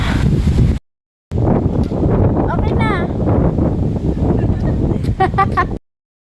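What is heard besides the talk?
wind blowing outdoors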